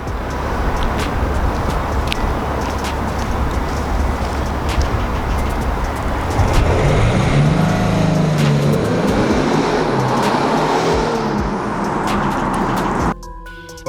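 A BMW 840d xDrive launches hard from a standstill, its diesel engine note rising in a steady surge of acceleration that fills the clip, loud and close, before cutting off abruptly near the end.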